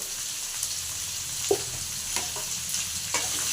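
Okra mixed with salt and turmeric in a pan, cooking to a low constant sizzle with a few scattered scrapes of a spoon, quiet and close.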